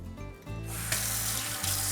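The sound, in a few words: washing hands with soap and water at a sink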